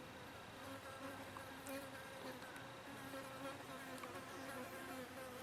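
Flies buzzing around someone outdoors in hot weather near an old tree, a steady overlapping drone of several insects close to the microphone with occasional louder passes.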